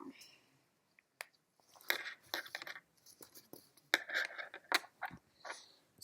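Scissors cut through fabric for a stuffed pillow craft, making crisp, close snips and crunchy cuts that come in short irregular bursts, with quiet handling noises between them.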